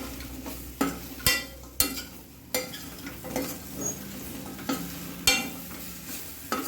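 Fried elephant foot yam with onion being stirred and sautéed in a pan, with a quiet sizzle broken by repeated sharp scraping strokes of a spoon against the pan at a loose rhythm.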